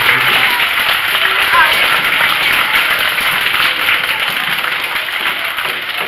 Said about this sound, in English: give your teachers a round of applause for bringing you here